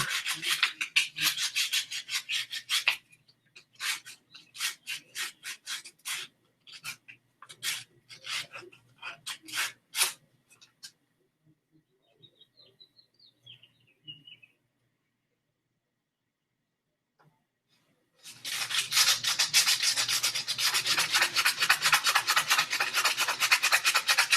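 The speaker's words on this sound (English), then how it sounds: "Practically used almost this entire piece of sandpaper just on this last bit of it here." Hand sanding with sandpaper, a rapid series of close, harsh rasping strokes, then a pause with faint handling noises, followed by a long continuous stretch of steady scraping; no speech.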